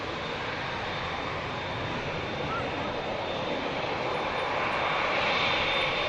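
An EasyJet Airbus A320 jet takes off at Manchester Airport with a broad, steady engine roar that swells slightly toward the end, heard from a distance with a commentator's voice.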